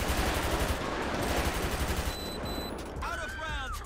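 Rapid automatic gunfire rattles continuously from a police shootout in GTA 5 with the LSPDFR mod, dense and loud for about two seconds before easing, followed by sparser shots and a brief whistling tone.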